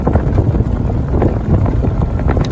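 Desert Fawn Western 300 golf cart with a 42-volt electric drive, heard on the move: a steady low rumble and rush of wind against the microphone, continuous and loud throughout, with no talk.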